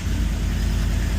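A first-generation Ford Raptor's engine idles steadily up close, a dense low rumble with an even, unbroken pulse and no voices over it.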